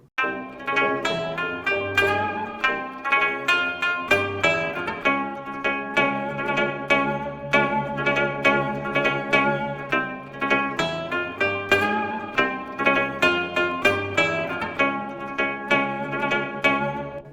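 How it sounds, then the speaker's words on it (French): A melodic sampled phrase repeats in rhythmic pulses, each note trailing off into a long, washy reverb tail that blurs into the next. "j'aimerais bien que ce soit une bonne reverb bien longue"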